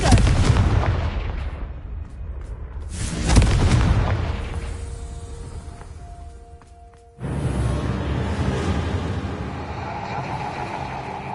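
Confringo fire spells in Hogwarts Legacy burst into loud booming explosions with rumbling, crackling tails, one big blast early, another around the middle and a dense roar after a sudden cut, no talk over them.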